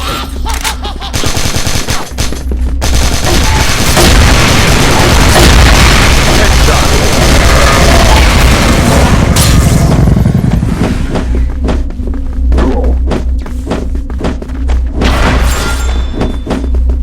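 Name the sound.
flash grenade explosion in Crossfire video game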